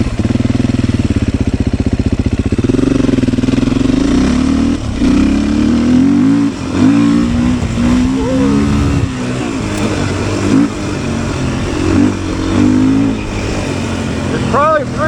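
A Beta 500 RS dirt motorcycle ridden on a wet trail, its engine loud and close with rising and falling revs, repeated throttle bursts and gear changes over the whole stretch.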